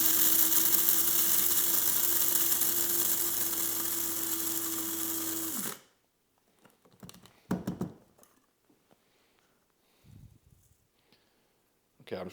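An electric coffee grinder grinds Honduras coffee beans in a steady high-pitched whirring burst lasting about six seconds, then stops abruptly, followed by faint clicks, taps and brief quiet talk.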